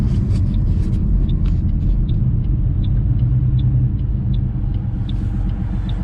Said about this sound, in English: I want to hear how it shifts down as we're coming up to a stop, a traffic light.